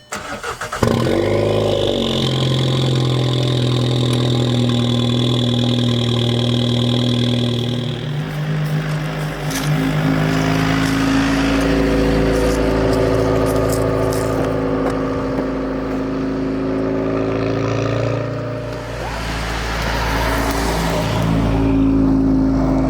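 Car engine, stage 2 tuned with a CTS Turbo downpipe and AWE Tuning Track Edition exhaust, starting with a stutter, then a loud, raspy exhaust idling and revving repeatedly, close by and sustained throughout.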